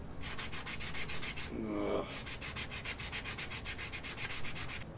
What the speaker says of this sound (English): So start sanding this thing.